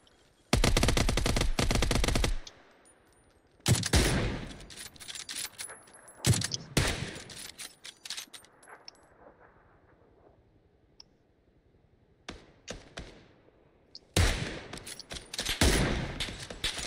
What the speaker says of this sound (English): I'm getting down, because we're getting shot from every which way.